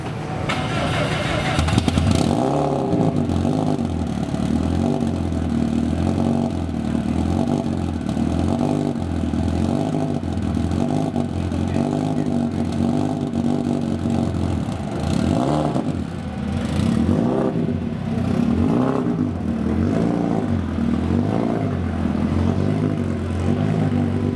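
Engines idle and rev in the pits at a time attack track day, with rough, rising and falling motor drones and clatter going on throughout as people talk nearby.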